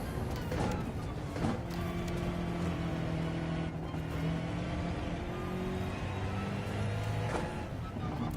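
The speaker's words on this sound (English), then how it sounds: "I love the sound of that car." A high-performance car engine in a video game roars steadily with pitch sweeping up and down as it revs, loud and continuous throughout.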